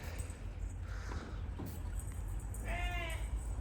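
Sheep bleat on a farm, a clear wavering call near the end that rises over steady outdoor background noise and low rumble.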